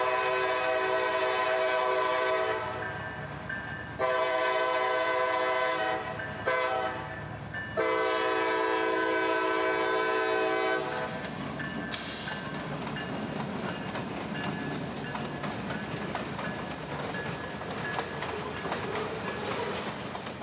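CSX freight train L781, led by an SD40-3 locomotive, rolls past at night with a loud, steady horn blast, then fades into the rumble and rattle of passing freight cars.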